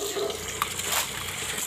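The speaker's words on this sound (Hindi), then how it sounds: "फिर से पानी डाला, फिर से पानी डाला" Water poured into a vessel and tipped out again while wheat is washed at a grandparent's home, a continuous close rushing and splashing with brief faint sounds over it.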